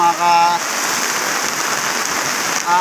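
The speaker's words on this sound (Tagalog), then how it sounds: "At malakas ang ulan." Heavy rain hisses steadily as a dense, close wash of drops, with faint tonal sounds briefly audible at the start and end.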